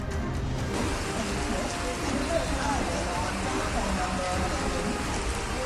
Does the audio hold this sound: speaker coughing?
no